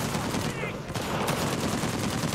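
Gunfire in Uncharted 4: The Lost Legacy crackles in rapid bursts through a dense game soundscape, loud and steady from start to finish.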